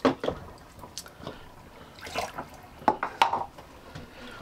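Water drains from a sink: scattered gurgles, drips and splashes come in uneven bursts at close range, with quiet stretches between them.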